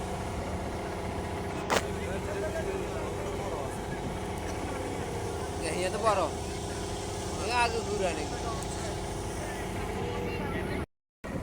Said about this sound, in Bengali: আমরা যেহেতু ঘাড়ের কাছাকাছি আসছি যার কারণে ট্রলারের স্পিডটা স্লো করে দিয়েছে